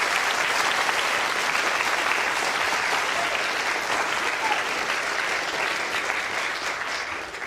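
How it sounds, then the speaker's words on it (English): A full audience at a BBC Royal Institution Christmas Lecture breaks into sustained, loud applause for the whole stretch, dense clapping with a faint crowd murmur and no distinct speech. "And a round of applause."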